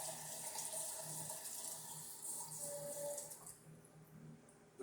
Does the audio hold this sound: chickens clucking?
no